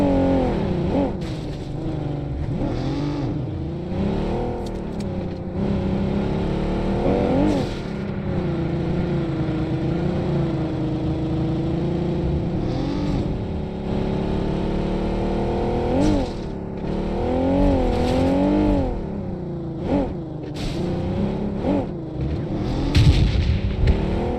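A car driving in PUBG Mobile, with a steady engine drone that rises and falls as it revs and shifts, continuous and close with a few bumps and rattles along the way.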